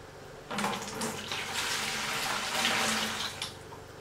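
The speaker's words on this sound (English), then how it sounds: "So I'm going to pour these fish through the net, which is propped on the bucket." Water and small aquarium fish poured from a bag through a net propped on a bucket: a steady splashing gush starting after a brief quiet moment, running for about three seconds, then trailing off into drips.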